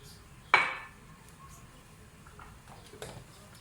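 Beef pasanday pieces drop into a metal cooking pot with one sharp clatter, followed by a fainter knock a few seconds later; a quiet, close kitchen setting with no voices.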